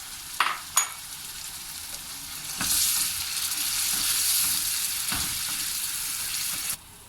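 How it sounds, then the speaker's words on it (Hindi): Tomato paste frying in a pan, a steady sizzle that swells after a couple of quick clanks near the start and then fades out abruptly, with no voices. "एक मिनट के लिए हम इसको हल्का सा फ्राई कर लेंगे"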